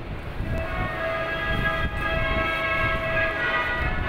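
The Trans-Siberian Express stands at a station about to depart for Vladivostok, with a loud, steady mechanical drone of the train and a sustained tonal hum, close and continuous, with no talk.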